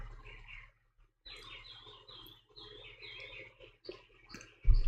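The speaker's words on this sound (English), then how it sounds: "That one bird is still out there." Small bird chirping outdoors, heard as repeated high, bright calls in short bursts over a low steady hum, moderately faint, with no talking.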